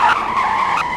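A fast car in the driving game Greenville skids briefly, giving a loud tire squeal over engine noise that swells and fades within about a second, with no speech.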